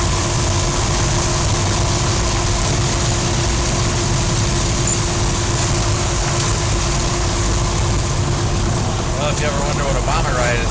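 The engine of a heated Bombardier snow vehicle used for ice fishing runs loud and steady from inside the cabin, a constant low rumbling drone with a faint mechanical whine over it.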